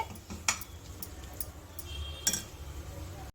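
Semolina (rava) being stirred in a kadai for a sweet, heard as quiet, scattered metallic clinks and scrapes of the spoon against the pan over a soft low background.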